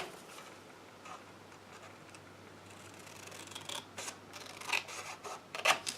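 Scissors snipping a paper tab off a piece for a junk journal pocket, a few quiet crisp cuts building toward the end over a faint hum, close and soft.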